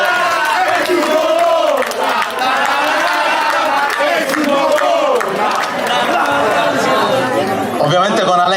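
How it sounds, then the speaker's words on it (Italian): Crowd voices chanting together at a football club's 2022/23 team presentation for ACD Don Carlo Misilmeri, a dense, loud, continuous roar of many people with shouting and some clapping mixed in. "Il coro."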